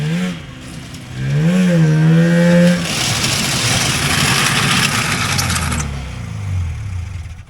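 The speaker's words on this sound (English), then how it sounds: "the sound of gravel on carbides" A vintage single-cylinder Polaris Colt race snowmobile with a two-stroke engine revs up, then its carbide runners scrape over gravel in a loud, rough hiss that lasts a few seconds before the motor drones on alone.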